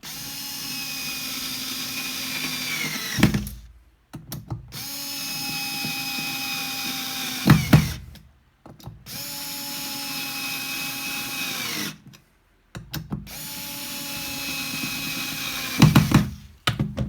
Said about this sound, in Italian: Quindi inizio dal 4 volt e vediamo come avvita queste viti.